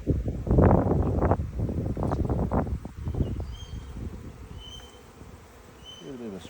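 Honey bees buzzing around an open Langstroth hive, a close, busy hum swelling loudly at first over rustling and handling noise, then thinning to a softer drone with faint bird calls outdoors.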